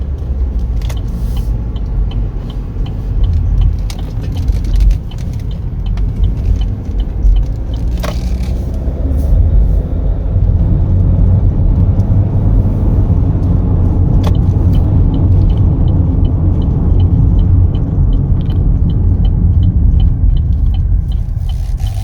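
2020 Chevrolet Equinox LS on a test drive, a steady low cabin rumble of engine and road noise on Michelin tires, with occasional faint clicks and no talking.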